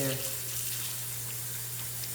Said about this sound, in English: I'm dumping them right here in a big bowl of clear water